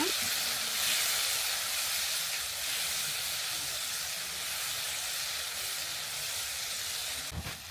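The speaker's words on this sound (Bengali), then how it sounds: "সামান্য পরিমাণ পানি দিয়ে দিলাম মরিচের গুঁড়া হলুদের গুঁড়া আর স্বাদ মতো লবণ সবগুলো মশলা আমি নিয়ে এসে কষিয়ে নিব" Chili powder, turmeric and salt cooking in oil with a little water make a steady, even hiss that holds throughout, with one brief knock near the end.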